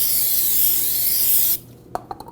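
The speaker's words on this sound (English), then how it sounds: "We'll just use a little brake parts cleaner" An aerosol can of brake parts cleaner hisses in one steady, close spray onto a new brake rotor, then stops, followed by a few faint rubbing sounds.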